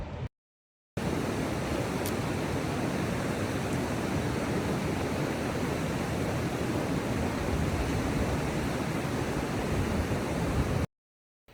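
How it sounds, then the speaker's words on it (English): Stream water flowing among the fells of the Langstrath valley in the Lake District, a steady, loud, broadband rush that continues unbroken between brief gaps at the start and end. "listen to that sound of water"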